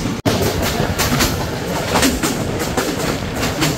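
A down passenger train rolls at full speed along a Bangladeshi line toward Ishwardi, with a steady loud rumble, rhythmic clickety-clack from the wheels, and a brief dropout near the start.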